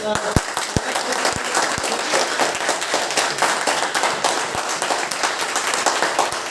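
Loud clapping from a meeting crowd of around fifty people in Wada honors a man named Satish, dense and sustained with sharper individual claps standing out, and a voice occasionally audible beneath it.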